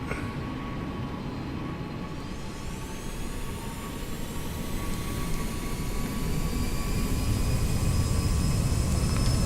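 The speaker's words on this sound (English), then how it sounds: "Let's bring the engines up." Aerosoft CRJ jet engines in the Prepar3D flight simulator spooling up, a steady roar that builds gradually with a rising whine over dense low rumble, continuous and close with no talk.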